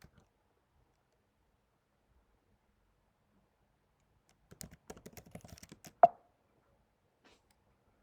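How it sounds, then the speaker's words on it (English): A password is typed on a computer keyboard: a short, quiet burst of rapid keystrokes after a long silence, ending in one sharper, louder key press, with near silence afterward. "I'm typing my password,"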